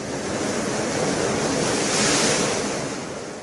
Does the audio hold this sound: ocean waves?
yes